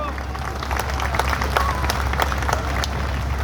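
A poetry recital audience gives a short burst of light, scattered clapping over a low background hum, fairly thin and uneven rather than a full ovation.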